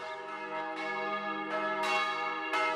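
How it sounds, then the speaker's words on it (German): Church bells ringing an alarm, several large bells tolling together in overlapping strokes with a long, humming sustain, steady and moderately distant with no voices. "Dort läuten 972, 4 Jahre nach Mathildes Tod, die Alarmglocken"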